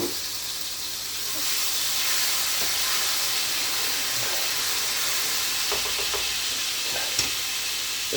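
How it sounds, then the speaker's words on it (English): Garlic sizzles in a pan on a gas hob, a steady close hiss of frying that swells slightly after the first second and carries on evenly, with a few faint stirring knocks. "First things we're going to put in is some garlic."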